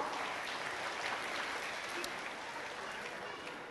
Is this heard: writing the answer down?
no